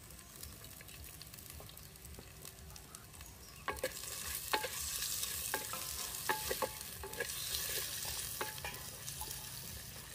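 Chopped onion, whole garlic cloves and ginger frying in a pan for a Bengali raw banana kofta curry, a steady sizzle with sharper scraping stirs and clinks from about four seconds onward, close and moderately loud.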